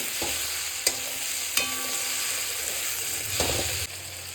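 Tomato and salt stir-fried in a hot pan, a steady close sizzle broken by a few sharp spatula scrapes and knocks against the metal, with no voices.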